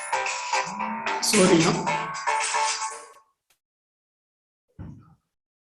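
Mobile phone ringtone going off during a public finance lecture, a bright tonal melody for about three seconds, mixed with a few spoken words, then cut off.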